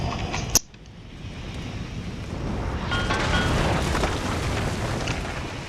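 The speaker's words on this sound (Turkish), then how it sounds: "Şu an topun buraya sıkması lazım ki şunların belli bir kısmından kurtulalım." Artillery cannon fire in the video game Empire Total War: one sharp boom, followed by a long, swelling rumble of battle noise.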